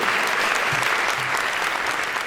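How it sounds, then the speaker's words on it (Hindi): Dense, sustained applause from a crowd at a Hindi poetry performance, steady and loud, a broad patter of many hands with no break. "एक बार तालियां बजा के मन दीजिएगा मुझे।"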